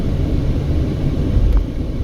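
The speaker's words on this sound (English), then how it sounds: "tourist helicopters up in the air there" Tourist helicopter flying over an East Las Vegas neighborhood, a low distant rumble heard from street level under steady background noise, with no talk.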